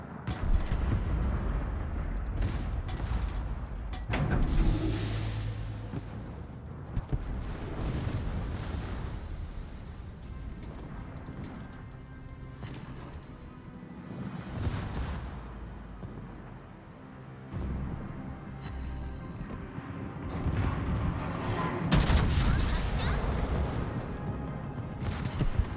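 Repeated heavy naval gun salvos boom out in World of Warships, rolling blasts and deep explosions recurring across the stretch with loud sharp bursts, no talking over them.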